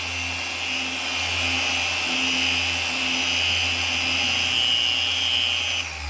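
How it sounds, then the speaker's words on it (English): A buffing pad polishes a guitar headstock faceplate, giving a steady, close whirring motor drone with a hissy high band that holds evenly throughout and stops abruptly near the end. "I can see what the buffing pad's doing."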